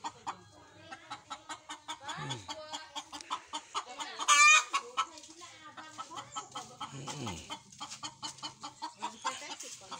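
Chickens clucking in a steady, rapid series of sharp notes, with a hen brooding up on a house roof; one louder squawk rises in the middle, close and clear, with a voice talking briefly underneath.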